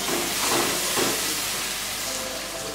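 Half a cup of water poured into hot frying spices for a soya granules korma, a loud burst of hissing steam and sizzle that holds steadily for a few seconds.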